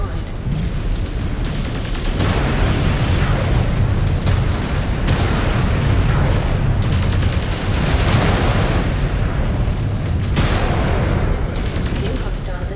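Mech combat in MechWarrior 5: Clans, with a dense, continuous barrage of booming explosions and heavy weapons fire, loud and sustained throughout, with bursts that swell and cut off repeatedly.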